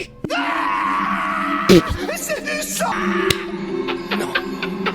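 An anime character from Naruto lets out a long, strained wail and groan that rises and falls with sharp cries. Backed by dramatic soundtrack music and loud close effects, with no speech over it.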